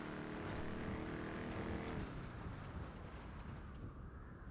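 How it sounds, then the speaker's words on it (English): Hard braking of a car in GTA V on a NoPixel roleplay server, a loud engine roar with tire noise that drops off sharply about halfway through and then settles into a steady rumble. "We're gonna gear lock, slam on the brakes."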